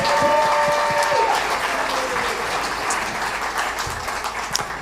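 Audience applause for the Bexley Public Library at a jazz concert, a full, steady roar of many hands clapping that fades slightly toward the end, with a held musical tone over the first second.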